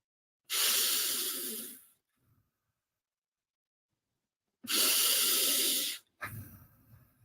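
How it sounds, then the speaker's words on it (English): Slow, deep breathing during a guided breathwork practice: two long, loud hissing exhales close to the microphone, separated by several seconds of silence, followed by a brief sharp inhale. "And then I start again with the slow breathing."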